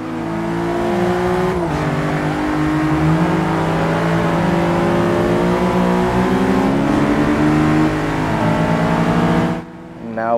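A Honda Civic Type R engine screams at high revs, loud and sustained with rising pitch and brief shift breaks, from inside the car at speed, before cutting off at the end.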